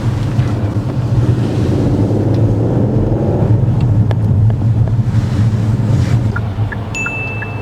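A car accelerates on a UK roundabout during a driving test, its engine droning loud and steady under heavy wind rumble, with faint clicks near the end.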